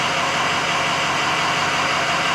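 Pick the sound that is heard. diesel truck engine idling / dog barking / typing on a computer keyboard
diesel truck engine idling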